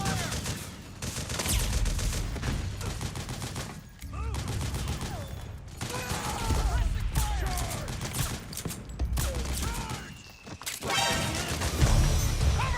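Dense suppressing gunfire in Metal Gear Solid 4 rattles almost without pause, with loud bursts and crashes up close and shouted voices and radio chatter mixed in over the din.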